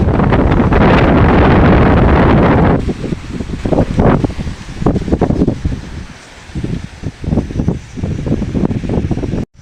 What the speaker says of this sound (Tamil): பயங்கரமாக காற்றடிக்குது, வீடியோவே எடுக்க முடியாது போல் இருக்குது.